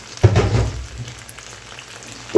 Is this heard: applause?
no